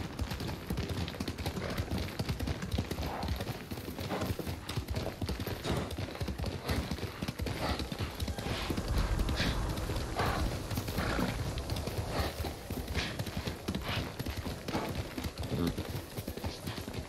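A horse gallops in Ghost of Tsushima, its hooves pounding in a fast, continuous rhythm under dense outdoor ambience, loud and close throughout with no pause.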